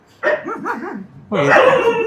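A dog at a dog breeding farm gives a close, loud series of quick yips and whining barks, then a longer, harsher bark after a short pause.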